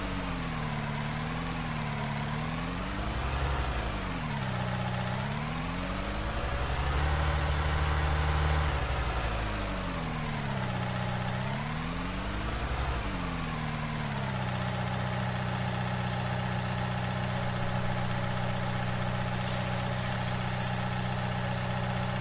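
A tractor engine idles steadily in Farming Simulator 19, with a constant low rumble whose pitch swells and dips several times early on before settling into an even drone.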